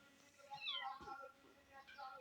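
A Persian kitten gives several soft, thin meows in quick succession during a scuffle, faint and close, with a brief low thump between the cries.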